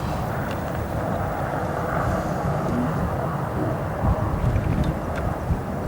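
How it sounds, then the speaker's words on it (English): Aircraft on final approach at O'Hare International Airport at night, a broad steady rumble of distant jet engine noise mixed with wind buffeting on the microphone, fairly loud and continuous with no voices. "a lot of aircraft on final currently"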